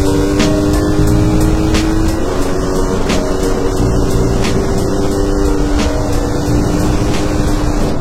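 Car driving steadily on a road, a continuous engine and road drone holding level for the whole stretch with a few faint ticks above it.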